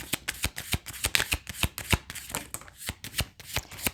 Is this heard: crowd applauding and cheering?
no